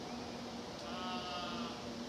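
A single sheep bleats in a drawn-out, wavering call against steady outdoor background noise on a hill walk near Church Stretton, fairly close by.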